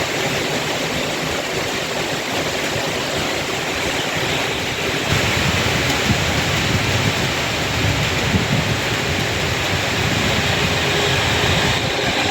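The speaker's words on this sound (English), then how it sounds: "here's a really late running 1542 London North Western Railway service to Crewe" A late-running London North Western Railway express to Crewe passes through Rugby station without stopping, giving a loud, continuous roar of broadband rumble and rushing noise that swells slightly partway through.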